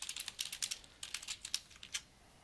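Fast, uneven typing on a computer keyboard, a steady run of crisp close key clicks with short pauses, alone without talk.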